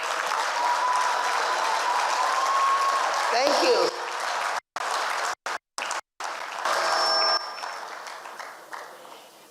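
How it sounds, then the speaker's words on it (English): An audience at a memorial leadership lecture breaks into sustained applause, steady and fairly loud before it thins out, with a speaker briefly talking over it. "I need a clapping that's a bit more than what you did."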